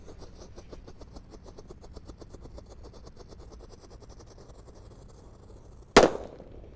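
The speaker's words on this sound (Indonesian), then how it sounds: "di sini ada mercon disco happy flower. Kita lihat reaksinya. Sudah menyala." A disco happy flower firecracker: a rapid crackling fizz pulses steadily for several seconds, then a sharp, loud bang goes off near the end.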